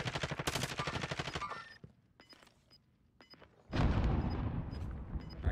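Rapid automatic gunfire in Call of Duty Warzone, a loud sustained burst, a few sharp isolated shots during a lull, then another dense volley close by.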